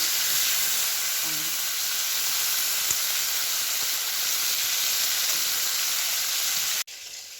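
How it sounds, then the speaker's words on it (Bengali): Prawns frying in hot oil, a loud, dense, continuous hiss and sizzle close up that runs steadily and then drops away abruptly near the end, with no talking. "চিংড়ি মাছগুলো ভেজে একবারে সবগুলোই দিয়ে দিলাম। ভালো করে লাল লাল করে ভেজে নেব।"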